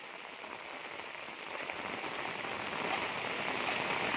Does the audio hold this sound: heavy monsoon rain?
yes